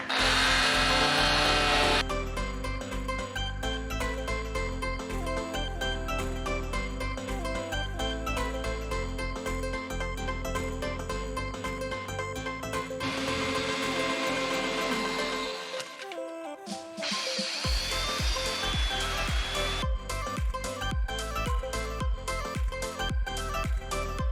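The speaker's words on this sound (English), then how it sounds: "get my saw out, and start cutting" A power saw cuts through the top cap of a boat under rebuild, a loud continuous whining buzz that drops out briefly near the end before resuming, with no talking.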